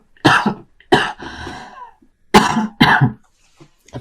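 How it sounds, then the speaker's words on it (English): One person coughs in four short, harsh bursts: two close together, then a rougher throat-clearing rasp, then two more after a pause, each loud and close with quiet between. "I need to cough 1 second."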